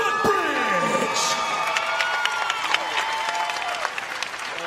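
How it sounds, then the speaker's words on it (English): A loud crowd applauds and cheers continuously at a CrossFit semifinal team event, the Atlas Games, with whoops and shouts rising over sustained clapping and a voice carrying through the noise. "Make some noise for CrossFit East Woodbridge"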